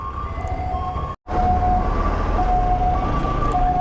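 An ambulance siren wails steadily in rising and falling tones over a loud, constant rumble of jammed traffic.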